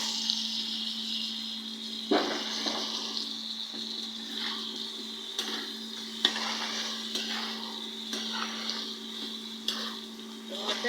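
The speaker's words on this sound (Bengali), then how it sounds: "এখন চিংড়ি মাছটা দিয়ে দেবো এখানে ভেজে রাখা চিংড়ি মাছগুলো দিয়ে দিলাম" Already-fried prawns go into a pan of oil and cooked-down masala for a malai curry, with a continuous sizzle, repeated sharp spatula scrapes and clinks, and a steady background hum.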